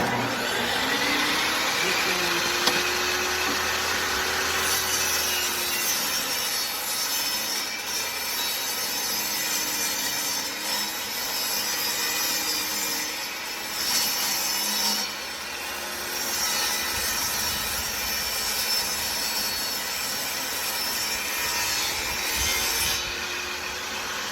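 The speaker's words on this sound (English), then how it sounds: "just cutting 1-inch strips. I've got some of the offcuts from the ribs, and I'll cut some 1-inch strips now" Hand-sawing 1-inch wooden strips from rib offcuts during a car audio trunk rebuild, a steady back-and-forth rasping rhythm that runs nearly continuously and fairly close.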